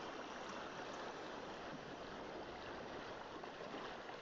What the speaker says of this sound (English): It sounds like a rushing stream, not an actual lake.